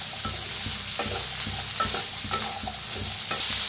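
Bitter gourd with green chillies being stirred in a hot pan, a steady oil sizzle under repeated scraping strokes of the spatula, close and continuous with no voices.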